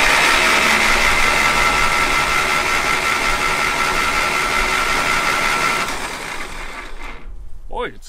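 Diesel engine of a 1959 Case 300B tractor, re-oiled after long outdoor storage, cranking over steadily and loudly for about six seconds before dropping to a quieter hum with a brief rising whine near the end.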